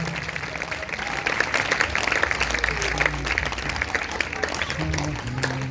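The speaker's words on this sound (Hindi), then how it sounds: "जोरदार तालियां बजाएंगे प्रभु के लिए, जोर से जोर से जोर से।" A Sunday church congregation bursts into loud, sustained clapping for the Lord, many hands close and dense throughout, with voices and a low tone mixed underneath.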